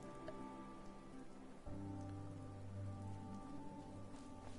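Steady rain falls on surfaces in the video game Fallout 4, a faint, continuous patter with a low droning hum underneath that grows slightly fuller partway through.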